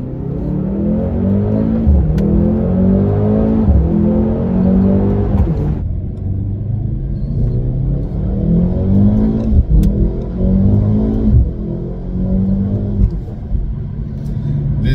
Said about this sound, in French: Les accélérations sont vraiment fulgurantes.